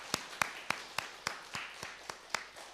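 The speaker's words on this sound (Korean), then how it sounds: "환영의 박수 한번 하겠습니다" A church congregation gives a round of welcoming applause for a first-time visitor during a Sunday worship service, sounding as about nine sharp, evenly spaced claps, fairly faint, with no voices over them.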